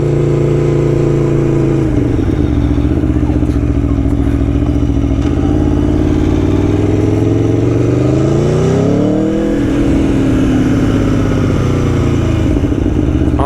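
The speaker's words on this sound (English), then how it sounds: "every time you change gear, it sort of cracks, and the downshift is really, really good" Aprilia Tuono 1100 Factory V4 motorcycle engine revving loud and close, pitch sweeping up and down through gear changes with sharp cracks on the shifts and blipped downshifts, steady throughout with no talking.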